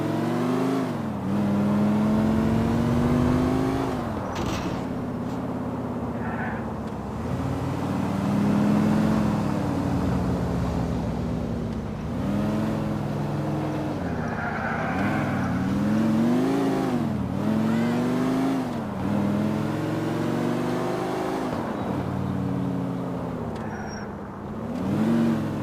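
A car in a video game driven fast, its engine revving, rising and falling in pitch again and again as gears shift, loud and close throughout with no talking.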